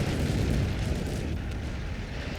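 Rapid T-60 tank cannon fire in the Men of War strategy game: a dense, continuous rumble of booming shots and explosions, loud and steady throughout with no talk over it.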